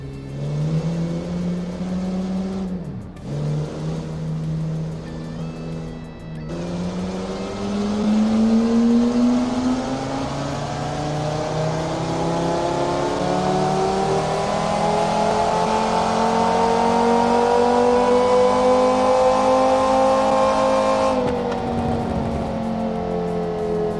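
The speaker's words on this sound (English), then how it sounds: "strap these machines to the dyno to see and hear what kind of power they are putting down" A simulated car engine in the Automation game revs steadily upward on a dyno, a loud continuous whine with rising harmonics that climbs in pitch, briefly dips near the start, then sustains high before cutting off near the end.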